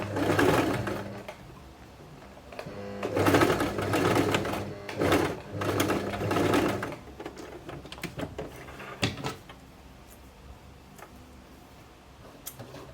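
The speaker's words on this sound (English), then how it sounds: "I'm just sewing it very, very small by the edge, so it won't be too obvious." A sewing machine stitches the edge of a fabric scrunchie closed, bursts of fast, rhythmic needle clatter stopping and starting several times, close and fairly loud, then fading to quieter handling sounds.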